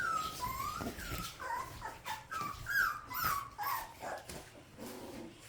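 Tiny 20-day-old golden retriever puppies whimper and yip in a series of high, rising cries, fairly close and repeated every half second or so.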